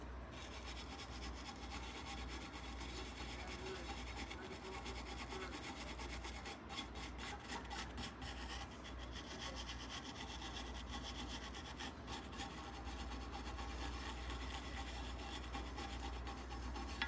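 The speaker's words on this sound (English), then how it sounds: "I'll buff that on the wire wheel." A front brake part from a BSA 441 Victor motorcycle is buffed on a spinning wire wheel, giving a continuous, fairly faint abrasive whirring and scratching that holds steady throughout with no talk.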